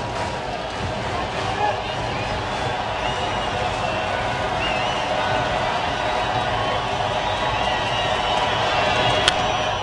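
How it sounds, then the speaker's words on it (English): Lively crowd at a baseball stadium during a 2009 makeup game, a steady broad murmur of chatter and movement filling the whole stretch at an even level with no distinct cheers. "Good lively crowd."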